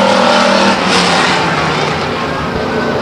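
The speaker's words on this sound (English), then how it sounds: "When they get to the stripe over between 3 and 4, they're welcome to pick up the accelerator, as they do right now." A pack of stock cars roars at full throttle at the green flag start at Stockton 99 Speedway, a loud, dense engine wash filling the whole stretch with a commentator's voice faintly under it.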